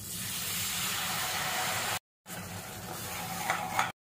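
Water poured into a pan of sizzling masala with Kashmiri red chilli, chilli powder and salt while cooking sprouted fenugreek seed curry, giving a loud steady sizzle and hiss with stirring, broken by two brief gaps.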